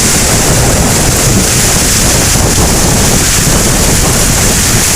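A strong wind and heavy rainstorm sweeps over farm fields, giving a loud, constant roar with the wind buffeting the microphone throughout and no voices.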